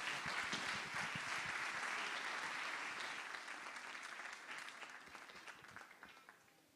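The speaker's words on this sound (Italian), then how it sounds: "un applauso per Pino Piu." An audience applauds for Pino Piu at the Premio Sardegna Live 2018 awards, a dense burst of clapping that starts full and gradually thins and fades toward the end.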